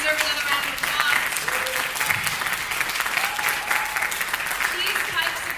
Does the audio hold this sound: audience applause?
yes